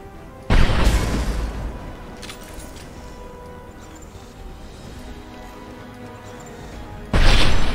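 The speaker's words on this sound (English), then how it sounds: "A misplaced shot could cause a significant explosion." Unstable materials blow up when shot in Mass Effect 2, a loud sudden explosion that rumbles and decays over several seconds before a second heavy blast hits near the end.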